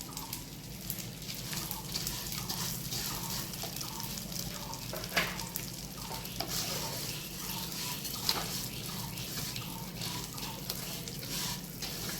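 Vermicelli frying in ghee for shemui payesh, a continuous close sizzle with soft stirring scrapes and a few sharper clicks of the utensil, steady throughout and with no voices.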